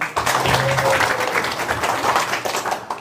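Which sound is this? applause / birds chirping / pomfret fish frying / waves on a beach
applause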